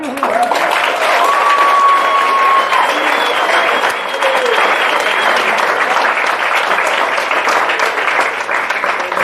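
Sustained applause from a crowd at a high school baseball banquet, dense and steady for several seconds, with a voice talking over it.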